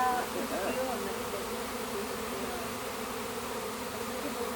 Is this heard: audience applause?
no